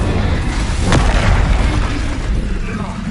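Incendio fire spell cast in Hogwarts Legacy, a dense roaring whoosh with a low rumbling burst under steady broadband noise, loud and sustained for about three seconds.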